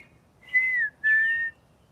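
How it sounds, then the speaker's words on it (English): A tiny bird gives two loud, clear whistled notes in close succession, each sliding slightly downward, heard near and alone over faint background hiss. "Such a tiny bird, such a tiny thing makes so much powerful noise."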